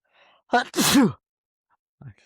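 A single loud, close sneeze with a sharp inhale before it, followed by a brief quiet voice.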